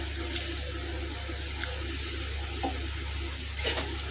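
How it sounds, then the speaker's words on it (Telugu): Water poured into a pressure cooker of tomato and cluster bean (goruchikkudu) curry, a steady splashing pour lasting several seconds over a constant low hum, with no voices. "దీనికి ఒక పావు గ్లాస్ నీళ్ళు వేద్దామండి."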